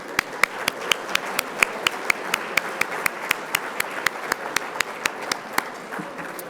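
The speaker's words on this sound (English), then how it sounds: "let's do another round of applause for all the winners" Steady rhythmic clapping at an awards ceremony, evenly spaced sharp hand claps stand out over a softer bed of scattered applause, continuing for several seconds at moderate loudness.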